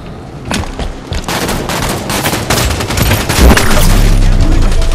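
Rapid, sustained gunfire and bursts from Halo 5: Guardians multiplayer, loud and dense throughout with a heavier boom-like rumble near the end.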